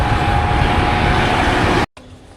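A train at Chittagong railway station gives a loud, steady rumbling roar with a faint high whine running through it. It cuts off abruptly near the end and gives way to quieter background noise.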